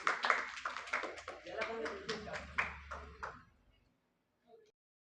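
Loud applause from an audience at a school event honouring a coaching student who placed second, with dense clapping and talk mixed in for several seconds before it stops.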